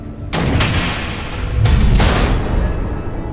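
Missile explosions in a video game, heavy booming blasts that hit near 0.3 and 1.6 seconds and then roll on into a loud, sustained rumble with no speech over them.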